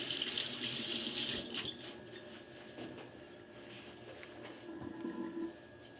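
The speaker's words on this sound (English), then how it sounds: "Let me rinse my hands off." A kitchen faucet runs steadily while hands are rinsed under it, a close, continuous splashing stream of water with shifting texture as the hands move through the flow.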